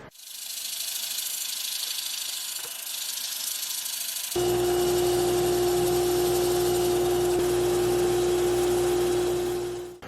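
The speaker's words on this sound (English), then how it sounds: "I have sanded the inside to 400 grit" A yew wood bowl is sanded on the inside while it spins on a lathe. It begins as a broad, steady hiss, and after a few seconds a louder motor hum with a strong tonal whine joins in and runs on continuously.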